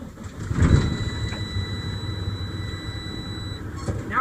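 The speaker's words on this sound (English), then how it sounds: "I'm going to perform a safe start now by engaging the clutch and turning the ignition." A truck's diesel engine starts as the ignition is turned with the clutch engaged, then settles into a steady close rumble for a few seconds, with no talk.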